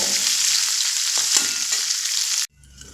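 Prawns frying in hot oil in a pan give a loud, continuous hissing sizzle close up, with faint stirring knocks, before the sound cuts off abruptly near the end.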